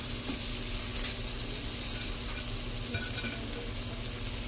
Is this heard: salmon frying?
yes